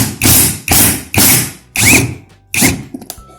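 Loud bursts of a power tool or ratcheting driver working a body-panel bolt on a Yamaha Nmax scooter, five separate whirring runs of about half a second each, close up, with short gaps between them.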